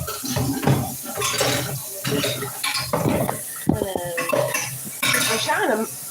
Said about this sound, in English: I'm trying to get some of these dishes out of the way so I can move.